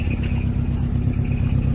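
A Volvo 240 engine idles roughly at close range, its exhaust rubbing against the body in a steady low rumble with a faint rhythmic clatter.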